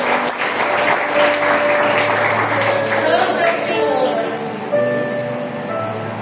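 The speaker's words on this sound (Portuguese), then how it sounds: "Você pode aplaudir a palavra do Senhor?" Church congregation applauds during a sermon, a broad wash of clapping that runs steadily, with a voice and tonal sounds drifting over it.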